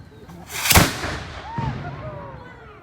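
A Prussian 12-pounder cannon fires once in a single loud, sharp blast outdoors, followed by a rolling echo that fades over a couple of seconds.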